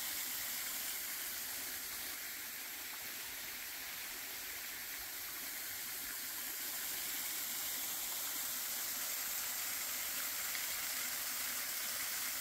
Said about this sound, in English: this little off-trail waterfall is a pretty good indicator of what flow at Pine Island should look like